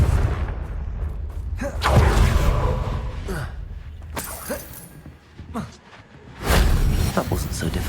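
Fiery spell blasts from the Confringo fire spell in Hogwarts Legacy burst out several times, sharp booming cracks with crackling tails spaced a second or two apart, mixed with game effects and a voice speaking between them.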